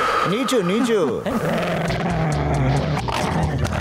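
A dog in a comedy film scene gives whining, wavering yelps and growls up close while people shout over it, followed by busy background commotion.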